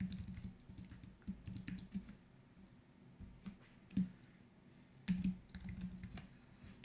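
A quick, quiet burst of typing on a computer keyboard while entering a password, with soft irregular key clicks and a few louder taps.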